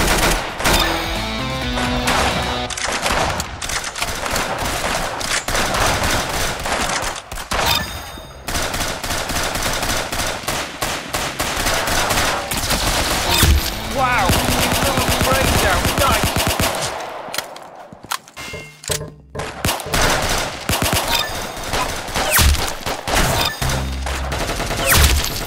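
Rapid automatic gunfire from the Roblox shooter Arsenal rattles on almost nonstop, dense bursts of shots with brief gaps and a quieter lull near the end, with a voice chatting faintly underneath.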